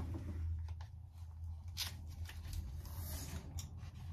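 Quiet rustling and snipping as scissors work at stubborn plastic packaging for a mascara, several short crinkly cuts over a low steady room hum, with no talking.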